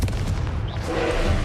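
A Confringo blasting spell explodes in Hogwarts Legacy as a heavy, booming blast that rumbles on at steady loudness, with a few softer thuds inside the din.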